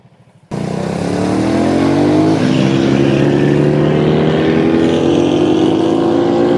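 A 110cc Honda Cub motorcycle rides on mountain roads, its small engine starting abruptly after a brief quiet moment and then running as a steady, close, loud drone with a slowly rising pitch under throttle.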